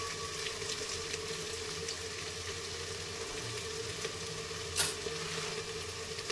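Steady, soft sizzle of a little refined oil spread over a hot pan, a close hiss with faint crackles throughout and one brief louder spatter near the end.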